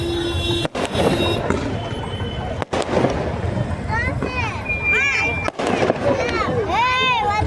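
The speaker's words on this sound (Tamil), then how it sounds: "வான வேடிக்கைகள் ரொம்பவே அழகாக இருக்குது" Fireworks burst and crackle over a crowd at a Thaipusam temple float festival in Tiruporur, with whistling rockets rising and popping amid continuous babble and distant noise.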